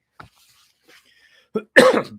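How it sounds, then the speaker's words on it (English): A few short coughs, the last one loud and close, with brief quiet gaps between them. "Excuse my cough."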